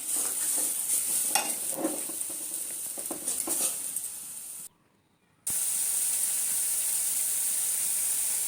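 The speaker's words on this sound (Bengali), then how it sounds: "হলুদের গুঁড়োটা দিয়ে দিলাম, লবণটাও দিয়ে দিলাম, দিয়ে ভালো করে মশলাটা আমি কষিয়ে নেব।" Spices with turmeric powder and salt sautéing in a pan for a potato and prawn curry, a close, steady sizzle with intermittent stirring scrapes, a brief total dropout, then a continuous bright hiss.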